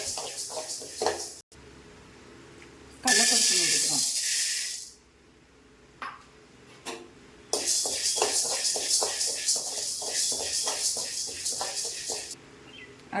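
Urad dal (black gram) dry-roasting in a pan, with loud bursts of hissing rattle and scraping as the grains are stirred, broken by quieter pauses; a voice speaks at times.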